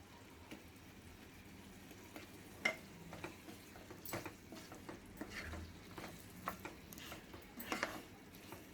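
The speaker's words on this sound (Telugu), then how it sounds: "బాగా కలుపుకోవాలండి." A spoon stirs a ridge gourd and chana dal masala curry in a pan, making faint, scattered clinks and soft scraping that come and go irregularly against a quiet background.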